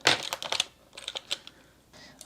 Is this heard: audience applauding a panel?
no